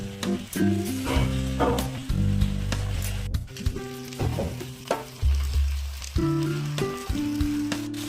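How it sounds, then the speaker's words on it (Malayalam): Loud sizzling of chicken frying in a pan, with repeated scraping stirs and clatter, close up over background music. "കോഴി നന്നായി വറുത്തെടുക്കുക"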